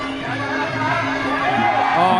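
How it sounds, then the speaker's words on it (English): A crowd section at a Thai Fight Muay Thai bout cheers steadily for Petnarin, a dense continuous roar of many voices with rising shouts near the end, no single voice standing out. "But there's a whole section cheering for Petnarin here"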